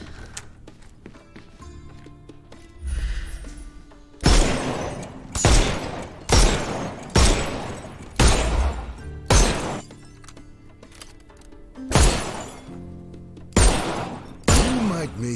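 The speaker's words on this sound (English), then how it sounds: "See those bottles over there? Go on, shoot them." Gunshots in the Sherlock Holmes Chapter One video game ring out about a dozen times at a steady pace, each a loud sharp crack mixed with breaking glass as bottles shatter, close and alone.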